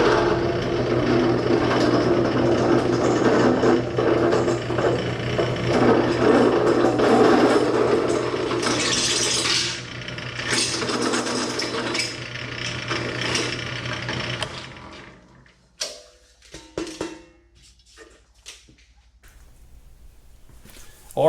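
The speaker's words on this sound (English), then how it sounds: "So next step is to pop the mounting holes, the bolt holes." Bolt holes are punched through steel on a Caterpillar D2 chassis rebuild, a steady mechanical hum and grinding for about fifteen seconds, then a few sharp clanks and knocks in a quieter shop.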